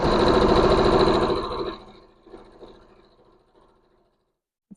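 A sewing machine stitches blouse pieces together in a loud, close, rapid mechanical run lasting almost two seconds, then slows into fainter, stuttering stitches before stopping, with a small click at the end.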